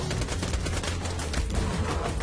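Dense gunfire in Borderlands 2, a steady barrage of rapid shots with thumping low-end bursts, loud and continuous throughout with no voices.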